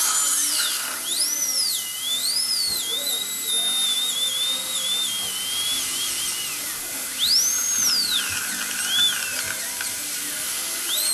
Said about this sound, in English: If there are, you can use a diamond stone to